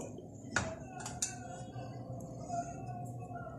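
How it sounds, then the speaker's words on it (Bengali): A metal cake mold set down inside a preheated cooking pot makes one sharp metallic clank, then a couple of lighter clinks as it settles, close and fairly quiet over a low background hum. "এখন এটার ভিতরে আমি সাবধানে কেকের মোল্ডটা বসিয়ে দিব"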